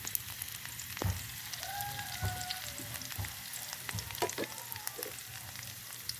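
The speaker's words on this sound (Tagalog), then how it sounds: "Magigisa lang tayo ng talbos ng kamote" Sweet potato leaves sautéing with onion and garlic in a pan give a steady close sizzle, with a few louder bursts and utensil clinks as the greens are stirred; no one speaks.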